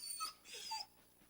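The companion dog in Dragon Age Origins lets out short whimpers and wheezy breaths, two faint, close whining bursts within about a second, with no voices.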